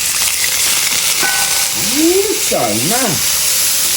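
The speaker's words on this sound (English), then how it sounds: "Alright, I'm frying it up" Continuous frying sizzle of salt fish in a little oil in a pan, with a voice speaking briefly over the steady crackling hiss.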